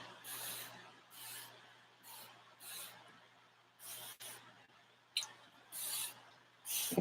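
A handheld spray bottle mists aloe vera juice in a series of short, soft hissing bursts, about eight pumps in irregular rhythm, close and fairly quiet.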